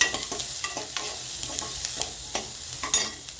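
Onions sauté in a pan while being stirred, a soft frying sizzle broken by frequent scraping clicks of the spoon at an irregular pace, close and fairly quiet, with no talking.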